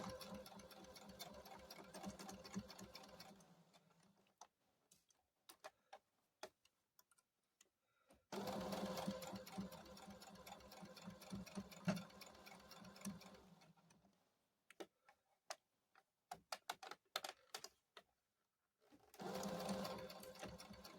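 A sewing machine stitches and back stitches along a seam of fabric for a Christmas bear, running in three loud bursts with quiet pauses and scattered clicks of the fabric being adjusted between them.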